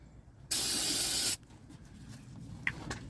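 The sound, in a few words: spraying starting fluid from aerosol can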